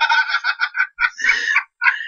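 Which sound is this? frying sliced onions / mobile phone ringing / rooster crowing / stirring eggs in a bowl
rooster crowing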